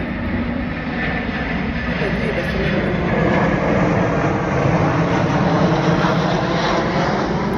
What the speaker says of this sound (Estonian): Ütleb järgmine lennuk.